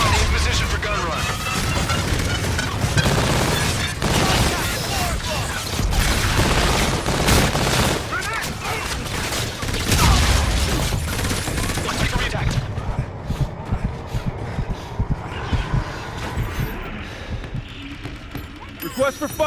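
A gun run strike in Call of Duty: Infinite Warfare, with dense rapid bursts of heavy gunfire, booming impacts and crashing explosions roaring for several seconds, then sporadic sharper cracks as it tapers, under radio chatter.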